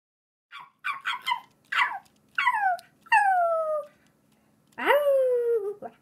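A small puppy whimpers and yips in a series of short, high, rising-and-falling cries, close and clear, with brief pauses between them in an otherwise quiet room.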